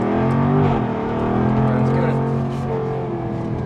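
A 2022 Jaguar F-Type P450 AWD with its 444 hp engine pushed hard through a handling test, a steady loud engine drone holding throughout with slight shifts in pitch as it corners.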